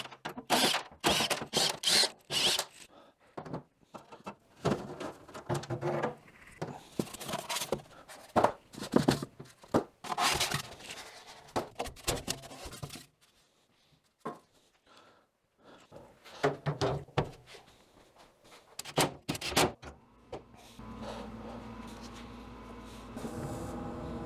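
Phillips head screws are worked out of the grate of a Wen air filtration system, giving close intermittent clicks, ratcheting scrapes and metallic rattles in irregular bursts with pauses between them and a faint hum near the end.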